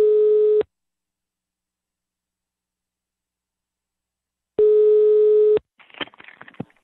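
A telephone line tone sounds while a call is being placed: a steady, loud tone for under a second, a long silence, then a second tone burst of about a second, followed by faint crackly line noise.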